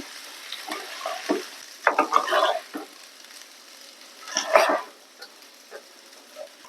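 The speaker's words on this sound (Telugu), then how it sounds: "ఇప్పుడు మనం చల్లారి పెట్టుకున్న అన్నాన్ని వేసుకొని కలుపుకోవాలి జీలకర్ర పచ్చిమిర్చి ఇవన్నీ కూడా రైస్కి పట్టే వరకు బాగా కలుపుకోవాలి" Cooled rice with cumin seeds and green chillies is stirred in a pan, a close series of scraping and rustling bursts from the spoon at irregular intervals over a quiet background.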